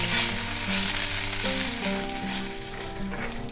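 Thuthuvalai leaves with coriander, pepper and cumin sizzle and fry in an oiled pan, a continuous close hiss with faint stirring over steady tonal background music.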